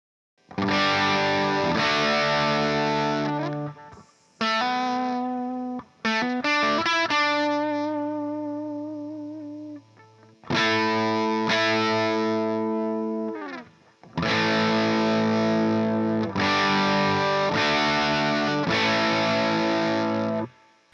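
Distorted electric guitar plays sustained chords and single notes in several bursts separated by short silences, loud and thick with harmonics.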